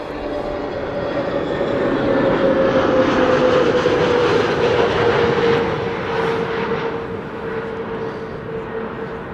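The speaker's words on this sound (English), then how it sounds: "the audio is going to pick up the A321neo from BA passing by" A British Airways Airbus A321neo arriving from London Heathrow passes by. Its jet engine roar builds, peaks mid-pass with a steady whine and then slowly fades, heard alone at moderate distance.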